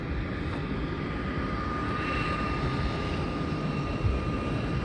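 Airplane engine at an airport by the east-west runway, a steady distant roar and drone holding constant throughout, with a faint whine above it.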